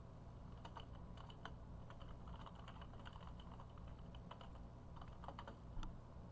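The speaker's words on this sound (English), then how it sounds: "So we will be typing" Soft, rapid keyboard clicking runs in irregular bursts over a steady low hum, quiet and close with no talking.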